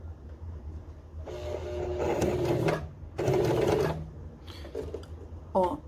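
A sewing machine stitches along a fabric edge in bursts of fast mechanical whirring separated by short pauses, close and clear, with a brief higher rattle near the end and no talk.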